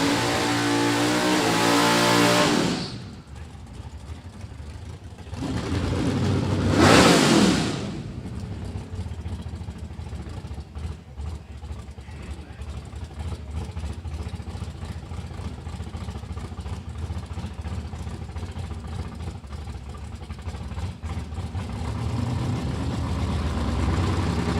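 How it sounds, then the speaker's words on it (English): A 1967 Chevy Impala at Byron Dragway: a loud roar for the first few seconds, then a brief surge of revving, then a steady mid-level engine drone that carries on as the car runs down the strip. "Here's that beautiful 67 Chevy Impala coming up."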